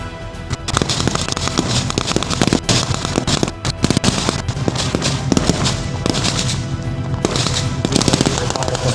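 Dense gunfire at a WWII battle reenactment, with Canadian forces firing near universal and Bren gun carriers. Rapid overlapping shots and machine-gun bursts run loud and continuous for the whole stretch, without a break.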